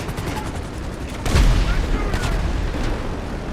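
GTA Online heist combat: a constant backdrop of rapid gunfire and rumbling, with a loud boom like an explosion partway through and further bursts after, dense and loud.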